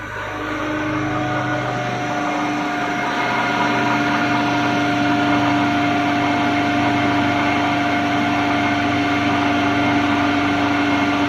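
Motor running steadily at about 1450 rpm during a core-loss separation test on a transformer, giving a continuous hum with a strong steady tone, even and fairly loud throughout with no talk.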